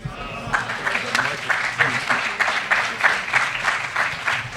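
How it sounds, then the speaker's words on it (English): An audience at a mosque gives sustained applause, a dense patter of clapping that carries on steadily for several seconds. "Keep that applause going for our brother from Atlantic City, Student Minister Ava Muhammad."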